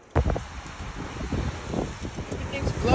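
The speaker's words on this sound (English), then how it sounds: "You can hear the wind outside." Strong desert wind gusts around a parked van, a continuous broadband rush with rumbling buffets and low thumps, close to the microphone and fairly loud.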